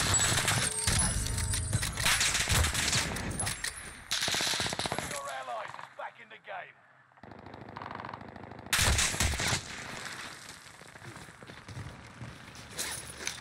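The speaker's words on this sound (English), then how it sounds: "That guy was getting shot at." Automatic rifle fire in Call of Duty Warzone, loud rapid bursts packed together at first, then a quieter gap with scattered game effects before another heavy burst and fading rattles.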